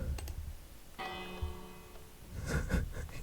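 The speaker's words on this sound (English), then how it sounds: "But yeah, this is a bell." A single bell rings in a video game, a bright struck tone with a ringing decay that lasts about a second, heard over a low clicking background and busy noise.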